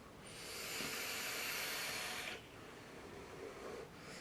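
Airflow rushing through a vape with its airflow control fully open during a draw, a steady broad hiss lasting about two seconds, then dropping to a quieter background hiss.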